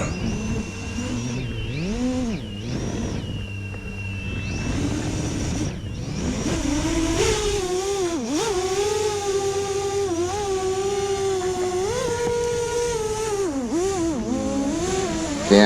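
iFlight Xing Unibell FPV drone motors whine and rise and fall in pitch with throttle during a maiden test flight, a steady buzzing drone that surges, dips and climbs again, heard fairly close throughout.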